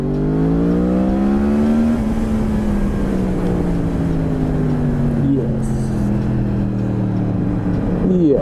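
A Yamaha MT-10 SP motorcycle with a liquid-cooled cross-plane four-cylinder engine tuned for low-down torque accelerates, its loud engine note rising and shifting pitch through the gears, close to the microphone with strong wind rush.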